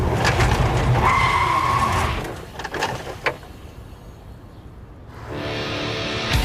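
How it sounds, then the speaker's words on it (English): A car brakes hard to a stop with a loud tire skid that fades into quieter rumbling and a few knocks, then steady road noise returns. "get ready for the brake. And stop."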